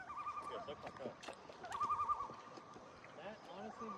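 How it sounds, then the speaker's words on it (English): A loon calls over a lake in the Canadian wilderness near Algonquin, a drawn-out tonal wail rising and holding for a moment at moderate distance, while people talk quietly nearby. "I'm glad I can hear the loon calls."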